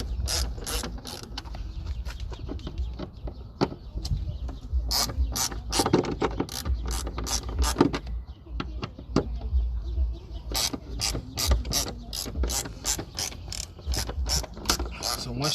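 A hand ratchet with a T40 star bit loosens the tailgate bolts on a 2008 Cadillac SRX, giving steady rapid clicking that runs in long bursts with a short break midway, close and loud.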